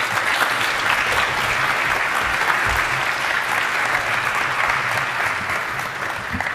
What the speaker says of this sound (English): So please come to the stage and big round of applause for Mariana